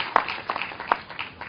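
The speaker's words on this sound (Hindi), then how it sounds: "तालियां बजाइए अपने आप के लिए" Scattered applause from a seated meditation session group, sparse uneven claps at moderate loudness, a few sharper hand claps standing out over a thin background patter.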